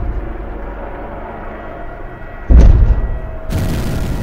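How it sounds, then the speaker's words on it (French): Main guns of the battleship Ise fire in an old wartime newsreel: a sudden heavy boom bursts out of a noisy, rumbling background, followed a second later by a second harsh, broad blast that lingers. "Le cuirassé Ise avance vers la flotte ennemie en tirant ses premiers et deuxièmes canons principaux."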